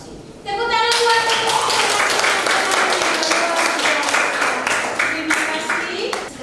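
A middle school class applauds after a group presentation, a burst of fairly dense clapping from many hands that starts suddenly and carries on steadily, with voices faintly underneath.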